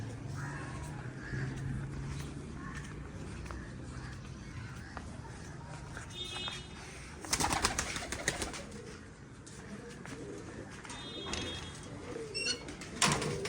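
Dub breed pigeons coo softly and repeatedly through steady background noise, with a few louder rustling bursts partway through and a faint passing vehicle.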